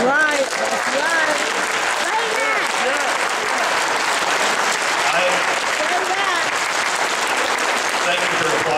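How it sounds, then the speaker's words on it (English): A crowd in a cathedral hall applauds a speaker on criminal justice reform, a loud, continuous wash of clapping lasting nearly nine seconds with voices faintly rising within it. "Thank you for applauding the message and accepting my apology."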